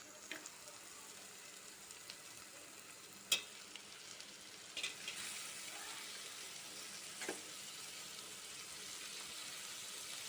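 Prawns sizzle in a pan with turmeric, a steady soft frying hiss with a few brief clinks and stirring scrapes, fairly quiet and close, with no talking.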